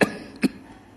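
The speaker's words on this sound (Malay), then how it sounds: "Batuk." A man coughs twice, a sharp burst at the start and a second one about half a second later, close and alone without talk.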